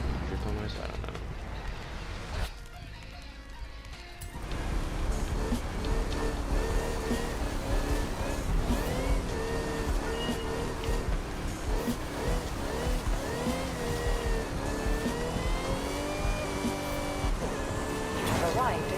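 A car in the Forza racing game drifting, with a steady loud engine roar and drawn-out tire squeal and skidding that persist almost throughout after a brief quieter dip, with a voice talking over it.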